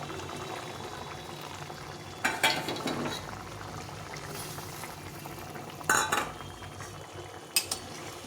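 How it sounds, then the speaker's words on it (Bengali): Duck egg curry simmering in a pot, a low steady bubbling broken by a few sharp metallic clinks and scrapes of a utensil against the pan, close and clear with no talking. "তরকারিটা সুন্দরভাবে ফুটে গেছে"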